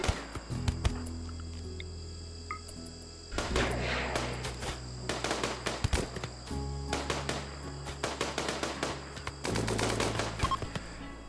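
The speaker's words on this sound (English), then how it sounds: "They open fire upon the raiders, and the fight begins." Rapid gunfire crackles through a RimWorld firefight as colonists attack raiders by a desert lake, with dense bursts of shots starting, pausing and resuming over a droning game soundtrack.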